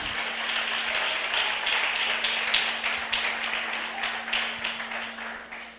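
A church congregation claps in a steady, rhythmic beat, loud and close, with the strokes slightly fading toward the end over a constant low hum.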